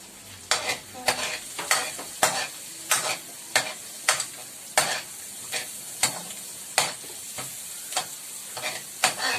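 Onions sauté in a pan for chicken caldereta with coconut milk, a steady close sizzle broken by regular, loud scraping strokes of a spoon stirring about twice a second; no voices.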